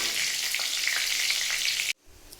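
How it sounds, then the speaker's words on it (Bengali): Panch phoron spices with bay leaves and chilli fry in hot oil in a pan, giving a steady, loud sizzle that cuts off abruptly near the end, followed by quiet room noise. "এটা ভাজা ভাজা হোক।"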